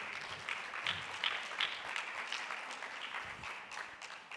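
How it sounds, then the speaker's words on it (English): Summit audience applause at a conference hall, dense clapping from many hands held at an even, moderate level with a few sharper claps standing out. "Let's give a round of applause."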